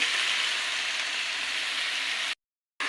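Vegetables with salt, turmeric and chili frying in a pan, a steady close hiss and sizzle that cuts out briefly near the end before resuming.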